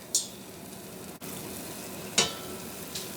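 A canned-biscuit donut hole fries in hot oil, a soft, steady bubbling hiss with a few sharper pops and spits standing out.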